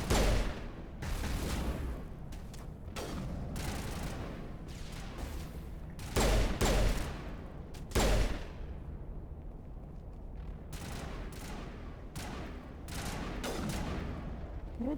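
Gunfire and heavy blasts in Mass Effect Legendary Edition on Insanity difficulty: scattered shots and sharp bursts echo through the scene, with several loud impacts standing out over a constant rumbling combat din.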